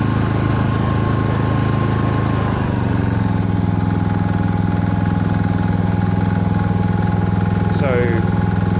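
A Honda EG2800i inverter generator on eco throttle hums steadily at a low even drone, close and loud, with a faint voice briefly heard over it.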